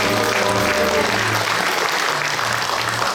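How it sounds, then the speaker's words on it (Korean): A crowd applauds continuously, steady clapping from many hands filling the space, with a few voices cheering underneath, at a Korean traditional music association's leadership handover ceremony in Daejeon. "여러분 큰 박수 함성으로 내빈 씨를 만나겠습니다"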